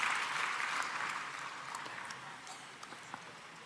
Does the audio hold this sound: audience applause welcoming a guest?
yes